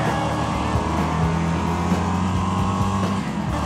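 Engine of a race car, the Stormshadow DH, driven in the racing game Wreckfest: a loud, continuous droning roar with steady harmonic tones that shift slightly in pitch as the car holds speed, with no talking.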